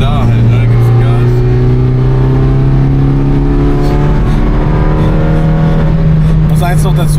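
Opel Corsa B with a C20XE engine accelerating hard at an airfield race, a loud, steady engine drone with rising harmonics that climbs in pitch and keeps building.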